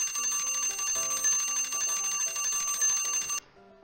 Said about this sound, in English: So I think that is sadly my timer.